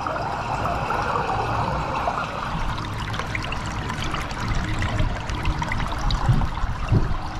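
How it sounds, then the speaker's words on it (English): Gray water full of construction debris flows steadily down a freshly unclogged drain, a continuous close rushing trickle with a few small splashes near the end. "At least the water's flowing."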